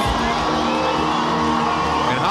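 A boxing arena crowd is cheering and whooping loudly ahead of Holly Holm's entrance for a women's bout. The roar is steady and continuous, with voices blending into one dense wall of noise throughout.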